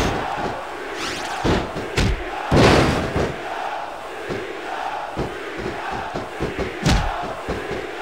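Arena crowd in the SmackDown vs Raw 2006 wrestling video game roars and swells steadily, with loud surges, thuds and sharp shouts rising over the constant crowd noise.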